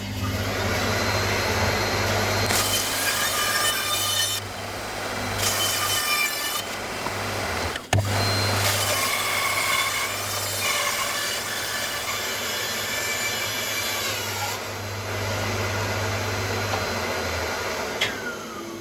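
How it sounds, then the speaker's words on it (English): A bandsaw cuts through crotch elm wood in a shop. Its loud, steady whine carries several bursts of cutting as the blade bites into the wood and eases off between passes, with no speech over it. "We'll take it over to the bandsaw and get started."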